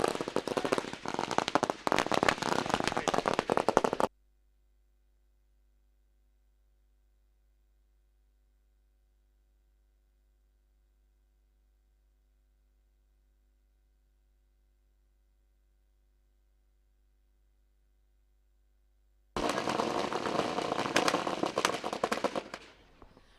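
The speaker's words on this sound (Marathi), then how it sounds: "फटाक्यांच्या आतिषबाजीने आम्ही त्यांचं स्वागत करू" Rapid crackling bursts of firecrackers going off at a cricket tournament, close and loud, then a long silence before another volley of crackling pops resumes.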